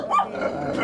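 A dog lets out a short, rough growl that breaks into a bark, close and fairly loud, with no talking over it.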